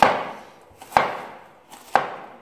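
A knife chops bamboo shoots thinly on a board, three sharp separate strokes about a second apart, each a crisp close knock with a short fade.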